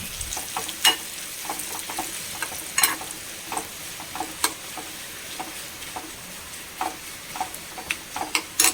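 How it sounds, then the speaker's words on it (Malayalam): Papadams crackle and pop as they fry in hot oil, with a steady bubbling sizzle broken by irregular sharp snaps, close up with no talking. "തീ ഒന്ന് സിമ്പിൾ വെച്ചിട്ട് ഇത് വറുത്തെടുക്കാം."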